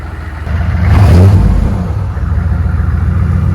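An old truck with a newly replaced engine revs once to a deep, loud peak and then settles into a steady, rough idle rumble, with no talking.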